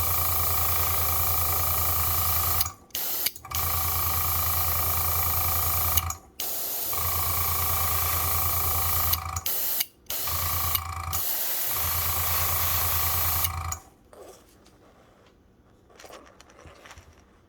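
Close, steady hiss of spray paint lightly dusting across a fishing lure's gill plate, sprayed in long even bursts separated by brief pauses, then stopping into quiet room tone.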